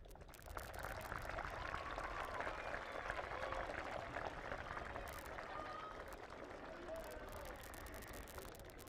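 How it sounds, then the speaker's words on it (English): Sustained applause from a graduation audience for the class of 2021, a dense, even wash of many hands clapping throughout, heard at a distance in a large hall. "please turn and give your loving supporters a hearty round of applause"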